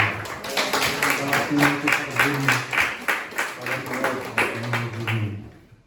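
A church congregation claps in a steady, rhythmic beat that keeps going for several seconds, with voices mixed in beneath the clapping.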